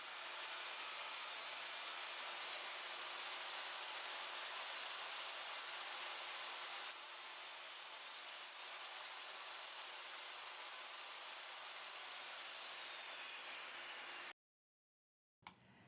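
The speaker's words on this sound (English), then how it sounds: "add the inlay and the juice groove using my CNC machine. Here I'm cutting the male insert" CNC machine cutting a wooden inlay insert for a cutting board, a steady high whining spindle and routing hiss that drops slightly in loudness partway, then cuts off to silence near the end.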